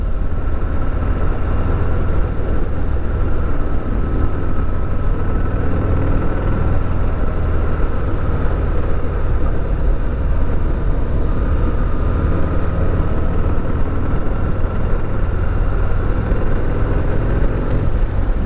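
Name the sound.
Harley-Davidson Heritage Classic motorcycle stock exhaust note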